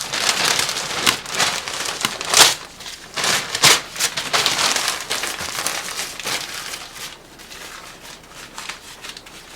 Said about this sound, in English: Sometimes you gotta feed just a little bit more paper in there.